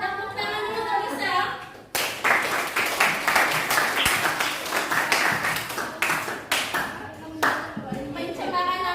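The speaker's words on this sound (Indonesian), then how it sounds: "Tepuk tangan dulu untuk bisa." Classroom applause for a student: a burst of hand clapping from a group of pupils runs for about seven seconds, fairly close and steady, with speech before and after it.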